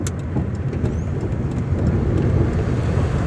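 A car pulls in slowly near a small beachside chapel, its engine and tire rumble steady and close, with faint higher rattles and hiss on top and no voices.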